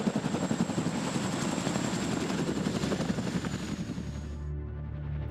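Boeing CH-47 Chinook tandem dual-rotor military helicopter during a large exercise, a steady loud rhythmic rotor thump with a dense turbine roar, fading slightly near the end, no talking.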